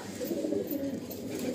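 Three male Madrasi pigeons coo in a loft, a low, continuous, moderately faint throaty murmur rolling on without pause.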